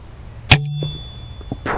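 A .25 calibre Snipe air rifle pellet slaps into a small rabbit sitting over its burrow on farmland: one sharp, loud crack-thump followed by a faint ringing tail and quiet outdoor rustle.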